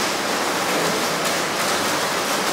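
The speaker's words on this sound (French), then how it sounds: "Il pleut, il pleut." Steady rain falling during several days of continuous downpour, a dense, even hiss of drops filling the whole clip with no voices and no breaks.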